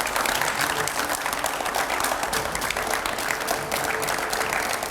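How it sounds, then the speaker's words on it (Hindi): A studio audience at a TV9 news show claps loudly in a dense, sustained round of applause for the whole stretch. "जोरदार तालियां हो जाएं।"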